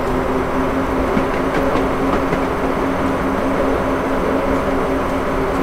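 Class 158 diesel train departing in the Train Simulator 2018 video game on the North Wales coast line, a loud steady engine drone and rolling rumble throughout, with no talking.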